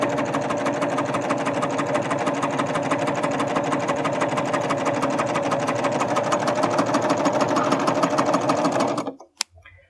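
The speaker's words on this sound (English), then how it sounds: "So we'll get started here and go all the way down. And I am stitching on the wrong side of the fabric." A Baby Lock Ovation serger runs steadily as it stitches along the wrong side of fabric, giving a loud, fast, even mechanical whir with rapid needle rhythm for about nine seconds before it stops abruptly, followed by a brief click.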